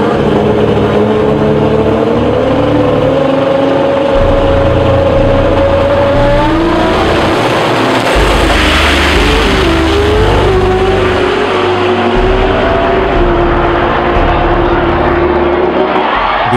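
Two drag racing cars running six-second passes at the Pan Americans at Atco in 2016 roar loudly as they accelerate down the strip, their engine notes climbing, fading and rising again in a continuous blast.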